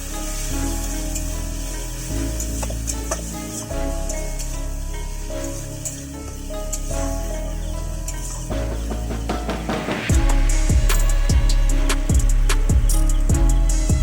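Onion paste dropped into hot frying spices for a Bangladeshi doi katla fish curry sets off a steady sizzle, with spoon scraping and stirring in the pan growing louder toward the end.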